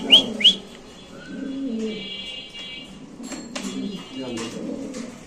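Pigeons at a pigeon farm selling Baghdadi hens, with two sharp whistle-like calls at the start and soft low cooing underneath, while someone talks over them much of the time.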